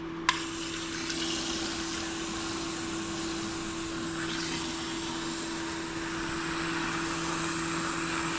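Liquid drains through a drain line into an old garden hose, giving a steady rushing, pump-like whoosh with a constant tonal hum underneath and a brief click at the start.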